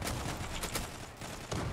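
Rapid bursts of gunfire in the Zula online shooter game, a dense crackling volley that continues through the short moment without pause.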